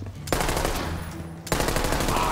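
Rapid-fire gunfire from a shotgun in Borderlands 3 bursts out loud and close in two sustained streams, with a short gap between them.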